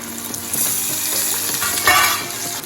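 Okra fries in oil with asafoetida and turmeric for a yogurt-based Kathiawadi curry, a loud close sizzle with spatula stirring throughout. One brief louder hiss comes near the end, and nobody talks.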